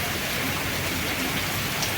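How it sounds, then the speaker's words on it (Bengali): Steady heavy rain pours down in a constant broadband hiss, dense and close, with no voices over it. "খুব সুন্দর বৃষ্টি।"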